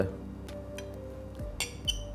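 Metal cutlery clinks lightly against a plate while mashed potato is eaten at a formal dinner, a few soft scrapes and two brighter taps close by over a low room hum.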